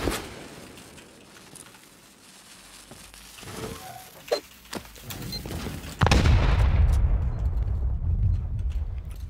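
Gunfire during a video game raid on an armored hotel, scattered sharp shots early on, then a loud sustained barrage of rapid fire and blasts from about six seconds onward.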